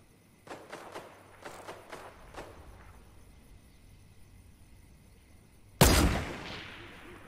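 Fortnite gunfire: a quick burst of several sharp shots early on, then a quiet stretch, then one much louder blast near the end that decays slowly, with no voices.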